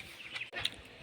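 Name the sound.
chicken clucking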